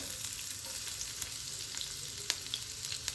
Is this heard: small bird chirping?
no